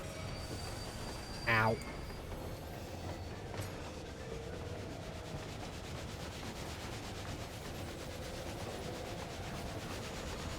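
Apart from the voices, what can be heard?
train in the video game Final Fantasy XIV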